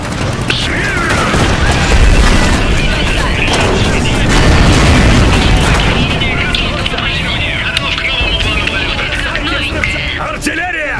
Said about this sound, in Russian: Артиллерийский залп!